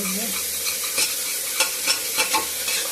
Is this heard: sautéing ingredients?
yes